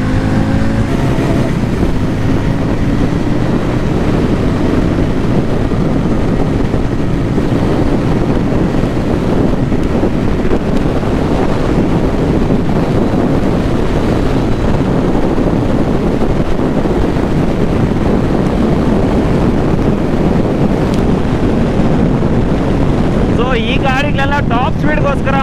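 Harley-Davidson X440 motorcycle riding at speed, a steady loud engine and road drone heavily buffeted by wind across the microphone, continuous throughout with no pauses.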